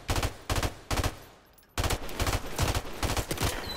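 M16 rifle gunfire in a video game: sharp, loud bursts of automatic fire in quick clusters, a brief lull, then a longer sustained string of rapid shots, close and dominant.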